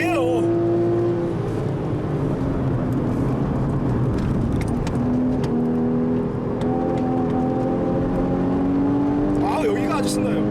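A manual Porsche 981 Cayman drives on the Inje Speedium race track, its engine holding a loud, steady drone with rising and falling pitch as it shifts, while people talk inside the car.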